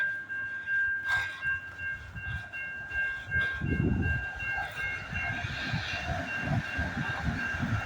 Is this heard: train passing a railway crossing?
yes